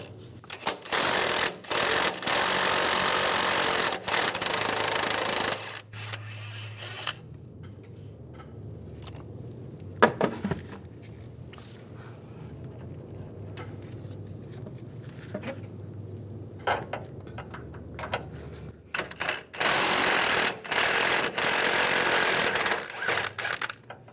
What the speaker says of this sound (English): Take those nuts out.